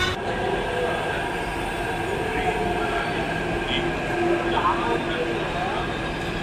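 A metro train at Nampally metro station in Hyderabad gives off a steady, loud rumble with thin wheel squeals rising above it throughout.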